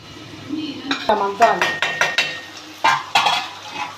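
A spoon stirs chicken liver curry in a metal pan with a run of sharp, close clanks and scrapes in an uneven rhythm, over a faint sizzle.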